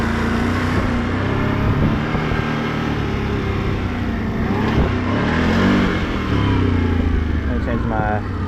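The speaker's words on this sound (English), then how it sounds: "I'm gonna insert some clips of me doing top speed runs" Can-Am off-road vehicle engine roaring steadily at high speed on a top speed run with a clutch kit fitted, loud and continuous with wind noise over about eight seconds.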